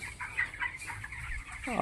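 Twenty-day-old broiler chickens on a poultry farm cluck softly in a short burst, a low murmuring flock sound close by, with no talk over it.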